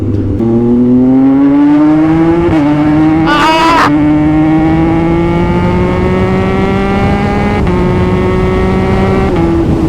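A Kawasaki Z900 or Yamaha MT-09 motorcycle engine drones loud and close on a group ride, its pitch climbing steadily, with a brief sharp throttle blip partway through and no speech.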